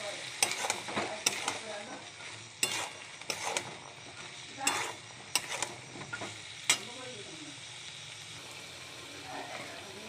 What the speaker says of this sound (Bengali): ছোলাটা দিয়ে একটু ভাজছি